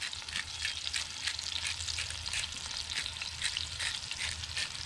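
A beef pot roast searing in a cast-iron Dutch oven over charcoal, a dense continuous crackling sizzle, close and steady throughout with no voices.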